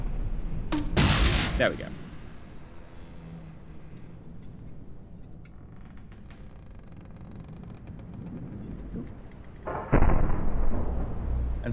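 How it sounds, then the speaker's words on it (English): Particle cannons fire in the video game From the Depths, striking a tightly packed ship. The bursts are loud and booming, one near the start and another near the end, with a low rumble between them. A voice speaks briefly. "you're firing dangerous particles back through your ship that are quite damaging"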